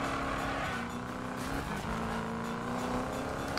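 Hot rod beast truck engine in the Need for Speed 2015 video game, a steady loud drone with a rising then dipping pitch sweep as it revs through a shift, holding close and continuous throughout.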